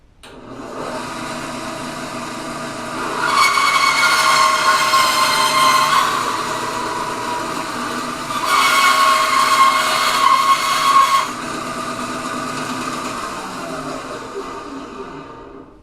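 A cheap tabletop band saw from Sears cuts maple wood, its motor whine rising into two louder, bright cutting passes of roughly three seconds each over a steady running hum, close and alone.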